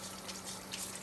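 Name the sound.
water running from the tap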